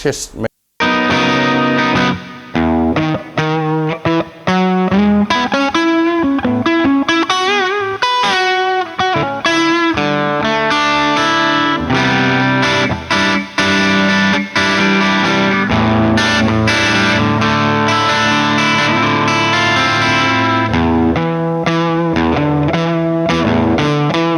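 Crunchy overdriven electric guitar tone from the TH-U Overloud amp simulator app on a phone, with added reverb and delay, plays a steady rhythmic part with sustained chords throughout, loud and up front.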